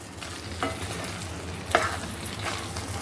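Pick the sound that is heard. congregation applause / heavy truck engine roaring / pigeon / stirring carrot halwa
stirring carrot halwa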